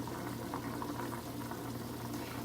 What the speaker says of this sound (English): So the water is boiling right now, as you can see.